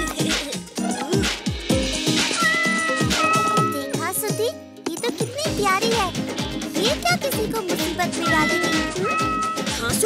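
A black cat meows repeatedly in a cartoon scene, loud and close, with drawn-out cries mixed among children's voices and music.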